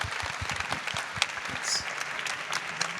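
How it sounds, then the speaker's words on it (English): Audience applause breaks out after a startup pitch at a London pitch-and-invest event: a dense, steady wash of many hands clapping, close and loud, sustained for a few seconds. "Round of applause for Catherine Dashel."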